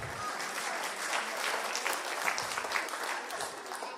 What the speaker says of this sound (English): give yourselves a round of applause anyway.